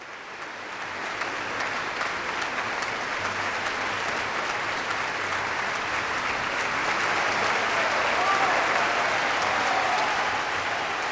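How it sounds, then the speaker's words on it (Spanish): Concert audience at the Sala Nezahualcóyotl applauding the Orquesta Filarmónica de la UNAM after Wieniawski's Violin Concerto in D minor, a dense, steady ovation that swells slightly toward the end, heard from within the hall. "El público que nos acompaña en esta ocasión, aquí en la sala de conciertos de Nezahualcóyotl, reconoce con su efusivo aplauso"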